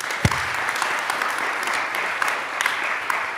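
Audience applause at a Berlinale Talents panel talk on filmmaking, a steady wash of clapping that holds throughout at moderate loudness, with a few sharper individual claps standing out and no speech over it.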